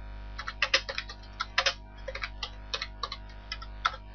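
Keys tapping on a computer keyboard in short irregular bursts while text is entered into a game editor, close and clear with no talk.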